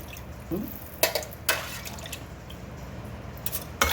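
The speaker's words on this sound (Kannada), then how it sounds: "ಇದರಲ್ಲೇ ಒಂದು ಐದು ಲೋಟ ನೀರು ಹಾಕ್ತೀನಿ" Water is poured from glass tumblers into a cooking pot while making huggi. A few short splashing pours come close, with faint drips between them.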